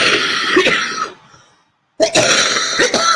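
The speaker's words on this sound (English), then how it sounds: "I'm sorry that I'm so coughing" A person coughs and clears their throat in loud, close bursts, with a brief silent pause before the harsh coughing starts again.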